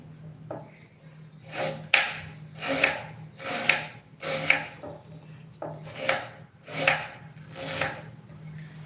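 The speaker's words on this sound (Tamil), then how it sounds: "இப்போ நான் வெங்காயம் கட் பண்ணிக்கிட்டு இருக்கேன்" A knife chops a medium-sized onion on a board in a series of about nine distinct, evenly spaced strokes, each a crisp close cut, with no talking.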